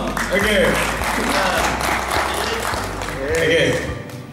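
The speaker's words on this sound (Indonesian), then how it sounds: "Kasih aplaus dulu dong" An audience at a beginner YouTuber training event claps in a dense, continuous burst of applause, loud and close, with a voice talking over it throughout.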